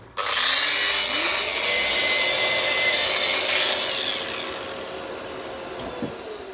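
Festool RAS 115 rotary sander with 80 grit paper grinding a block of wood, a loud steady high whine with a rasping edge that winds down near the end.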